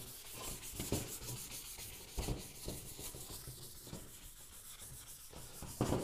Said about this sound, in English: I have a 220 grit sandpaper. I don't know if that's going to be coarse enough, but we'll see how it does.